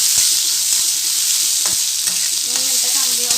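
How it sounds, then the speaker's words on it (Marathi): Capsicum stir-fried in a hot pan: a strong, close, steady sizzle with a few spatula clicks and scrapes against the metal scattered through it, and no voices. "शिमला मिरची ती पण 2 मिनिटाची भाजून घ्यायची."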